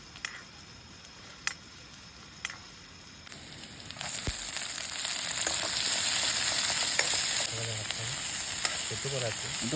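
Meat sautés in a pan over a camp stove outdoors, starting with quiet sparse ticks and pops, then rising into a dense, steady sizzle with scraping stirs.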